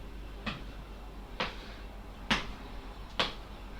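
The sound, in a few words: hard foot stamp on the floor during exercise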